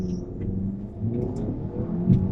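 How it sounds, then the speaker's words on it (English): An Audi A4 B8 2.0T Quattro with a rebuilt turbo accelerates hard from first into second gear, a close, steady engine rumble with rising whir and a brief dip at the shift. "What an amazing first to second gear shift."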